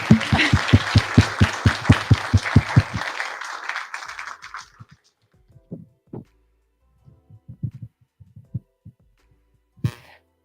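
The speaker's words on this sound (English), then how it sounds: "Let's give them a round of applause." A forum audience applauds the stood working group, first with steady rhythmic group clapping, then thinning out to a few scattered claps and fading to near silence.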